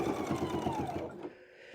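A home sewing machine stitches fabric for a button-and-bow craft project, a steady close whirring run for about a second that then cuts off, leaving near quiet.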